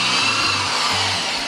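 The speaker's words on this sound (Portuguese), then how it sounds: "a ponta do bits para abrir um pequeno furo e começar a parafusar mais fácil" A power drill drives a screw with its bit while a sawhorse is built. A loud, close, continuous motor whine pulses with short low surges as the screw bites, and no one speaks.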